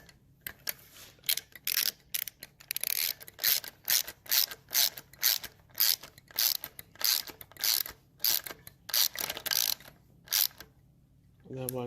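Ratchet wrench tightening bolts on the front fork and rear wheel of a 1971 Triumph Tiger 650cc motorcycle, a close series of rapid clicking bursts in a steady stop-start rhythm, with faint talk in places.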